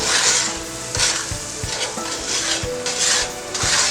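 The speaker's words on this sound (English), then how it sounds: "And keep stirring." Food for an Easter baked chicken meal stirred in a pan, with rhythmic scraping of a utensil against the pan every half second or so over a continuous loud sizzle of frying, close up and with no talking.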